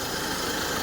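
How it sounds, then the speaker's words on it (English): Ford Kuga engine idling with its airbox disconnected, a steady close, broadband running drone with a low rumble and hissy intake noise, unchanging throughout the short stretch. "The noise you can hear is because I haven't connected the airbox"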